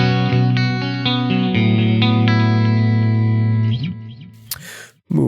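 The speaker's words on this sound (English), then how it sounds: "let's add some delay." Distorted electric guitar played through the JST Toneforge Disruptor plugin with delay added: sustained loud chords ring with repeating echoes, then fade before a final brief strum.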